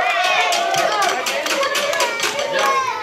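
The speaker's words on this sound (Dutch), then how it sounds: "Nogmaals eens een applaus voor deze twee dames." Dense applause from an audience at an indoor Sinterklaas club event, with many hands clapping steadily and loudly while children's voices call out through it.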